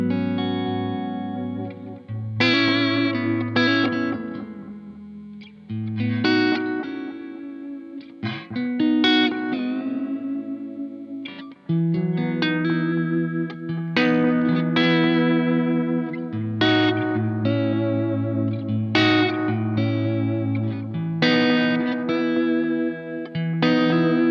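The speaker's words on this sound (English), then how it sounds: "the delay is going to have that clipping on it" An electric guitar plays chords and picked notes through a delay effect with harsh, clipped distortion, the repeats ringing on continuously with no talking.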